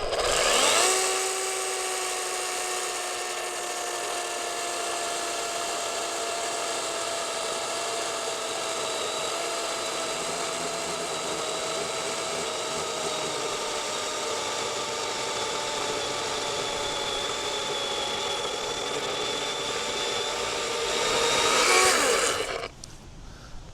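A freshly sharpened DeWalt chainsaw cuts through wood in one long pass, a loud, steady, high engine whine lasting over twenty seconds before it cuts out abruptly.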